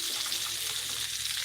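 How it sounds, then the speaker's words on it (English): Hot dogs sizzle in a pan with caramelizing onion, a steady broadband hiss and crackle that holds evenly throughout without pauses. "those beauties are sizzling"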